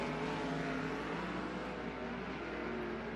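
Sprint race cars at a speedway accelerating around the track, a dense, steady engine roar filling the scene at a distance, sustained and even throughout with no clear voices over it.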